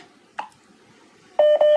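Telephone dialing tones, a short click followed by two close, loud beeps in quick succession with no talk.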